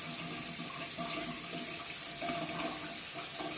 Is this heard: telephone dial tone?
no